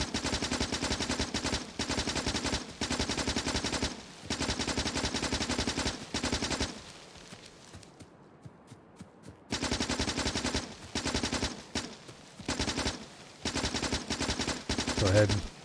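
Rapid automatic gunfire rattles in long bursts as trees are shot down in a factory-building video game, loud and close, with a few seconds of quiet in the middle before the firing resumes in repeated bursts.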